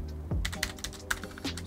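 Rapid keystrokes clatter on a computer keyboard while someone types a setting name into a Bakkesmod menu for Rocket League, sharp irregular clicks in short bursts over a low hum.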